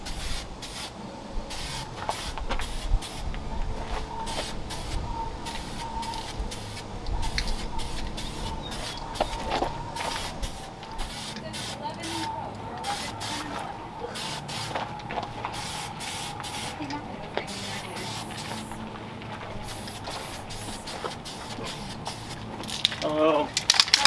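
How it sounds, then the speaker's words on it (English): Black lacquer being spray painted onto an original 1932 Ford headlight bar, a close hiss coming in many short bursts with brief pauses between them over a long stretch. "then we will spray it with some shiny black lacquer paint"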